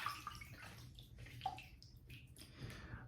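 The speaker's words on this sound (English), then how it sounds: "I'm gonna wet the face and we'll get started." Water splashes and trickles as a face is wetted before shaving. Soft, uneven splashes and drips are heard close by and at low level, with no talking.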